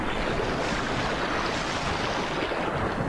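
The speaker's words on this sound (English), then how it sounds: "The crash of water as the buffalo retreat takes on a new significance to her." Water crashes and churns as buffalo retreat through it in the wild, a dense, steady roar of splashing and surf-like rushing that stays loud and close throughout.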